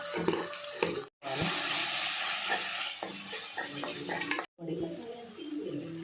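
Ginger garlic paste and chili powder are stirred into a hot pan for prawn biryani, giving a close, wet sizzle and scraping sounds, broken by two short silent gaps.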